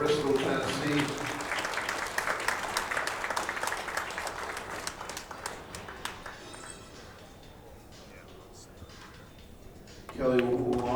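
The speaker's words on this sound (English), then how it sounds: "Let's have a round of applause" An audience at a women's professional pool tournament, the WPBA Masters, breaks into applause that swells loudly at once, then thins and fades over several seconds before talk returns at the end.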